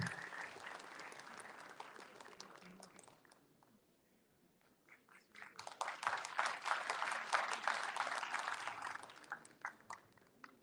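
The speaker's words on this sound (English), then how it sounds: "Can we have a huge round of applause for him?" Audience applause at a one-day cybersecurity symposium greets a keynote guest, a dense wash of clapping that fades to near quiet around the middle and then swells again, louder and fuller, before tapering off.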